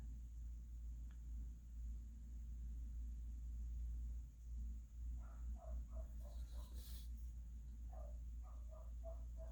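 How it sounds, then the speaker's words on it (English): A dog barks in the distance in short clustered bursts, faint against a steady low rumble and hum indoors. "If you hear a dog barking, it's not my dog."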